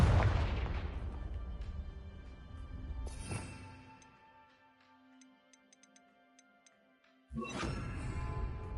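The explosive Confringo spell fires in the Hogwarts Legacy video game with a sharp burst and a booming blast that fades into a lingering, ringing tail, followed by another sudden blast near the end.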